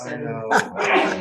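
A sneeze bursts out once during a town budget meeting, loud and close, with people talking in the room just before and right after it.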